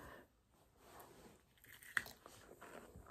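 Freeze-dried Reese's Pieces candy being bitten and chewed at a table, giving a few quiet, dry crunches with one sharper crack near the middle, close up.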